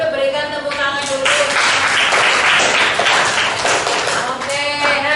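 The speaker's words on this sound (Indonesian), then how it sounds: "berikan tepuk tangan dulu" Classroom applause from a group of students, a burst of loud, dense clapping that swells in the middle and lingers for several seconds, with voices audible around it.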